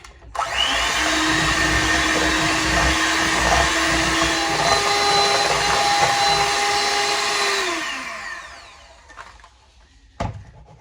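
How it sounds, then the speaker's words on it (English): An electric mixer whisks cream for a carrot cake frosting with a loud, steady motor whir that runs for about seven seconds, then winds down and stops, leaving a clatter near the end. "It'll fly all over when I start mixing. I'll just get the cream incorporated there. Now for the whisking."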